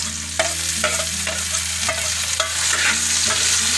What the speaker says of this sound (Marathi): कांदा छान असा लाल झालेला आहे तर यामध्ये टमाटर टाकून घेत आहे